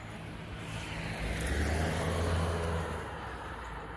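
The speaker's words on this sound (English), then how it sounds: "Oh, here comes a car." Car passing on a neighborhood street in Pittsburgh, Kansas, in cold weather, a broadband engine and tire roar that swells to a peak mid-pass and then fades, with no voices over it.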